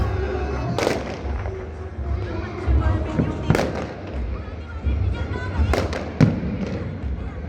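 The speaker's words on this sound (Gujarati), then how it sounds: "આકાશમાં ફટાકડા ફૂલે." Fireworks burst in the evening sky during an Uttarayan kite festival celebration, with about four sharp cracks ringing out over a steady crackling background, while people talk nearby.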